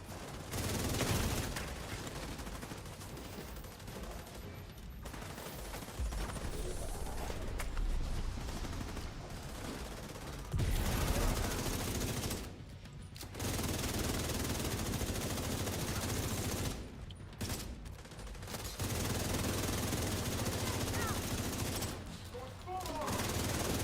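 Sniper gunfire in the video game The Division 2 comes as near-continuous bursts of shots and combat noise, broken by a few short quiet gaps, with someone talking over it.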